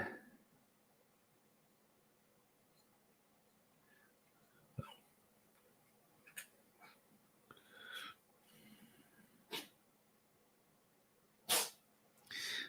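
A single quiet sneeze stands out against a faint, hushed background, followed by a few scattered small noises and breaths.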